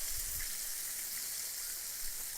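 A steady, bright sizzle of chicken frying in hot oil, continuous and close, with no voices.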